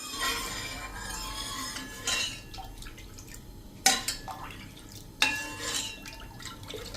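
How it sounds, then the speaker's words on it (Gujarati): Milk boils in a pot on the stove for homemade ice cream while a spoon stirs it, with scattered clinks and scrapes against the metal over a soft bubbling hiss. "તો આ રીતે આપણે કન્ટિન્યુ દૂધને ચલાવતા જ રહેશું."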